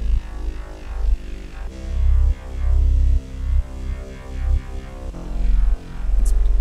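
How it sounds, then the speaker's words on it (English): Synth tone processed with an IDM phase wobble from a multi-rack effect chain, its stereo image shifting as it pulses in loud, throbbing bass-heavy swells with textured upper harmonics, playing alone without talk. "it's playing around in the stereo field, basically. It's completely changing the stereo properties of the sound you're hearing."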